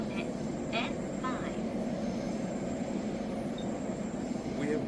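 Steady low rumble and rolling hum inside an underground subway train in Japan, a constant loud drone filling the whole stretch with faint brief chimes or squeals above it and no one talking.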